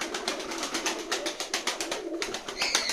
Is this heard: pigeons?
yes